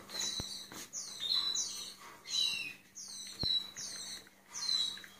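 Canaries chirp and trill in a series of bright, rapid bursts close by, repeating every second or so while the birds are moved into a new home, with a couple of sharp clicks between phrases and no talk.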